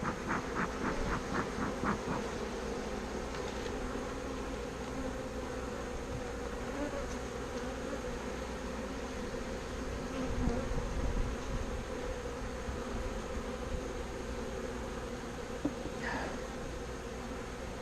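Honeybees buzz continuously in a package hive, a dense, steady drone close by with a few faint knocks and handling sounds.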